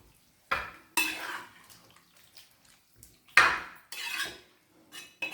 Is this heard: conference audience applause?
no